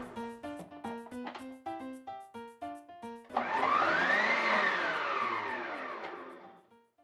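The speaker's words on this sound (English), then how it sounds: "Now let's do it with the food processor." Vitamix food processor attachment chopping cabbage, first a series of short rhythmic pulses, then a loud sustained motor whir that spins down and fades out.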